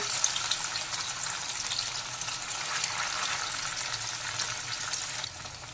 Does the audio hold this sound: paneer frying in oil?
yes